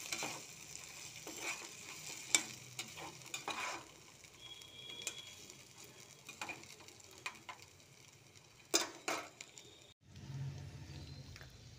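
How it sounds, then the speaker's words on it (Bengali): Potatoes and paneer are stirred in a frying pan, with a low sizzle under irregular scrapes and knocks of a utensil against the pan; close and fairly quiet, ending in a brief louder burst of frying, with no talking. "এবার একটু এগুলোকে মিক্সড করে নিই। আলু আর পনির মিশিয়ে নিলাম।"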